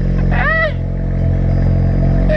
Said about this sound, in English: I'm gonna give you guys a cold start of a straight pipe 2013 Ford Fusion.